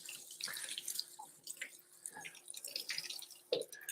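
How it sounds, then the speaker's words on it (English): Canned chickpeas are rinsed with water in a colander, giving faint, quiet drips and trickles with small splashes at an uneven rhythm, close by. "you want to just give them a rinse off of all the water and stuff that's on the piece"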